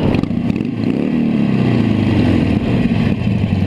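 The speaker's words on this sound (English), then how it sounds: "And then rev the engine a little bit." A motorcycle idling in neutral gets a gentle rev, its low engine rumble swelling and holding steady, loud and close throughout.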